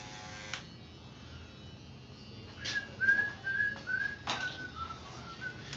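A person whistles a short wavering tune, several thin notes with gaps, quiet and close, following a faint buzz of electric clippers at a barber's fade and beard trim.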